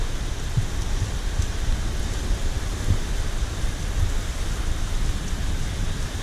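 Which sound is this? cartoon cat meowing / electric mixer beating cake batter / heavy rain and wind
heavy rain and wind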